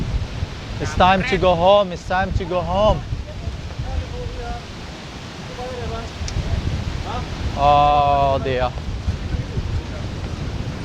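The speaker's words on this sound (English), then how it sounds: "Windy. Too windy. Windy." Very strong wind at Legian Beach roars in a low, steady rumble and buffets the microphone, with nearby voices talking over it.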